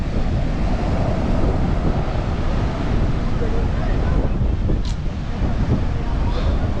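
Sea waves and strong wind on the shore at Dhanushkodi near Rameshwaram, a continuous roaring wash with heavy wind buffeting the microphone throughout.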